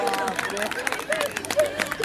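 Audience clapping at a spiritual gathering game in Janakpurdham, with scattered rhythmic claps beneath a loud voice speaking over the crowd.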